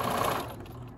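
A sewing machine stitches a quarter-inch seam on a Flying Geese quilt block, running in a steady close whir that eases off after a moment.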